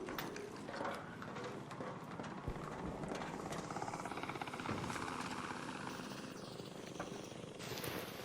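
Hornet robot drone in the ARC Raiders video game, a steady whirring, buzzing rotor drone that holds loud and continuous throughout, layered with dense game noise and a few sharp impacts.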